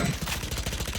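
Rapid automatic gunfire from a Vector submachine gun in the Valorant video game, a fast close burst of shots in quick regular succession lasting about a second.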